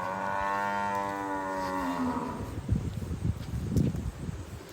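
A cow on a dairy farm in Karnataka lets out one long, deep moo, followed by rustling and shuffling movement nearby.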